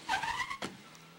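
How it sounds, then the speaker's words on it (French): A car drives into Villefort in Lozère: a short engine surge with a brief tire squeal, then a quick whoosh passing close, fading to low rumble. "16h45, la voiture pénètre dans Villefort, en Lozère."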